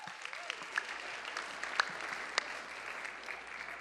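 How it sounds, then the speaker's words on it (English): Audience applause at a White House Correspondents' Association dinner, a steady wash of clapping from a large crowd with a few sharper claps standing out, fairly distant and even throughout. "Alex, give Alex a hand too as well."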